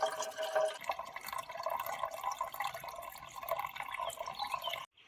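Water from a tap fills a pot in a steady, gurgling stream that runs for about five seconds and then stops abruptly, heard close up with no voices.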